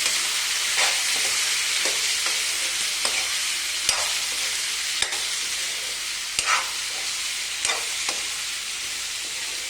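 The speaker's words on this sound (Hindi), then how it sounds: "और इसी के बाद डालेंगे हम थोड़ी सी हींग और इसे अच्छे से मिला देंगे।" Asafoetida being stirred into a Rajasthani kachri vegetable curry in a hot pan, with a steady sizzle of frying and scattered scrapes and taps of a spoon against the pan, close and alone with no talk.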